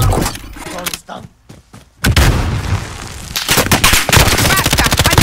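Automatic gunfire and heavy booms from Call of Duty: Warzone Pacific, loud and dense rapid bursts, breaking for about a second of near quiet before the shooting resumes with voices mixed in.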